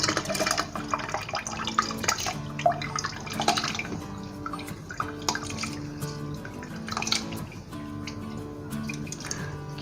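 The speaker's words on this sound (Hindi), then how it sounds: "और अब फिर चावल डालूँगी" Rice poured into about a cup of water in a grinder jar while making kheer gives close, irregular drips, splashes and small liquid trickles, with soft clinks scattered through.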